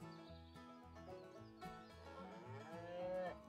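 A cow moos in the Animal Doctor video game, a single drawn-out low call set against steady background music, with no voices present.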